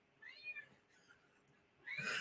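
An indoor cat, stuck inside and annoyed, gives a faint, drawn-out meow, then a louder, harsher meow at the end, with quiet room noise between.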